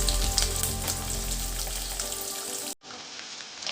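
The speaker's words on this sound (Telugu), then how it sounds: "అన్నీ కొంచెం దూరగా వేయించుకోవాలి" Dried red chillies and fresh curry leaves frying in hot oil for a raw mango dish give a steady, close sizzle that cuts off sharply near the end, followed by a quieter, thinner crackle.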